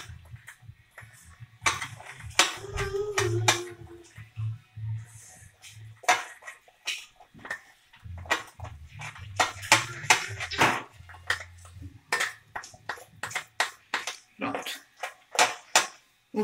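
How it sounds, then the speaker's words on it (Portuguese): Melted butter, about 100 grams, being stirred into a mixture in a bowl for a sugar-free chocolate salami, with a spoon clinking and scraping against the bowl in quick irregular taps, close by, while someone talks between strokes. "Vou aqui misturar bem a manteiga."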